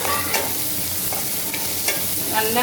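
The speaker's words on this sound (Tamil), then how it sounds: "இப்போ வெங்காயம் தக்காளி நல்லா வதங்கிட்டுது" Onion and tomato sautéing in a pan in a home kitchen, a steady close sizzle broken by a few light scraping stirs of a spoon against the pan.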